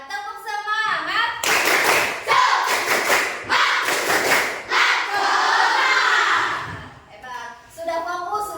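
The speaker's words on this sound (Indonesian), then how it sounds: "Tepuk semangat." A school class performs a tepuk semangat spirit clapping routine: rhythmic bursts of group hand claps and thumps mixed with loud children's chanting voices, close and energetic throughout.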